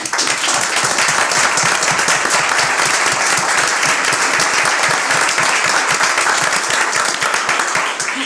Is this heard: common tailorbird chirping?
no